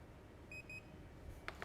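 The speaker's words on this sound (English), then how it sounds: "read this one, and it should beep." A TPMS tool beeps after reading a tire pressure sensor, giving two short high electronic beeps close together. They are faint against a quiet background, followed by two brief clicks.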